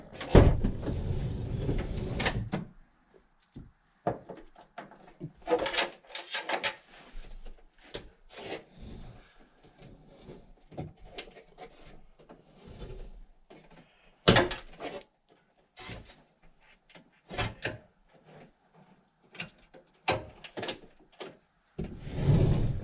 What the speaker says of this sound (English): I can open the door now.